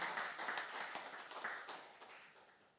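Congregation clapping during a Sunday worship service at a church, a faint, uneven patter of hands in a large room that fades gradually over a few seconds.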